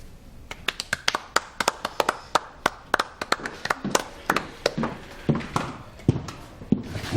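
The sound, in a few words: people clapping hands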